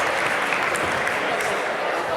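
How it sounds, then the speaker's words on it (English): Audience at a startup fair and pitch challenge applauds as a speaker is welcomed on stage, an even, continuous roar of clapping throughout. "Give a round of applause."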